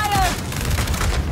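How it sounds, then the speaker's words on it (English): Gunfire erupts in Gears 5 during a solo Hivebuster mission as Alicia, a short burst of heavy booming shots, with a game voice calling out over the blasts. "Opening fire!"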